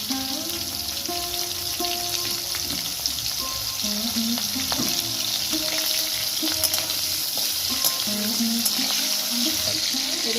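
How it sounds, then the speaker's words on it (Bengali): Tomatoes and torn green chilies frying in a pan for a Bengali Bhola fish curry with potato and eggplant, giving a steady, close sizzle with occasional soft stirring scrapes and a faint tonal hum in the background. "সেই টমেটো আর কাঁচা লঙ্কা দুটো ছিঁড়েছিলাম একটু নাড়াচাড়া করে একটু আমি নুন দিয়ে দেবো।"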